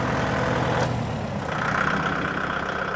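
A Kubota tractor engine idles nearby with a low, steady rumble, and a higher droning tone rises partway through as it keeps running.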